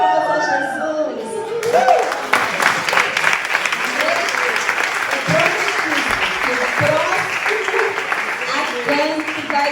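A church congregation applauding together during a worship service, steady dense clapping with crowd noise that starts abruptly and carries on throughout, with voices mixed in.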